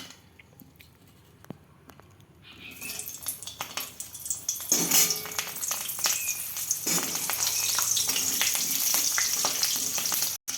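Halved onions dropped into hot oil set off a sudden sizzle that swells into a loud, steady frying hiss up close after a quiet opening, with a few crackles and no speech.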